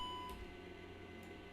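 Cockpit beep from a Majestic Q400 turboprop flight simulator, a single short electronic tone over the low steady hum of the simulated cabin.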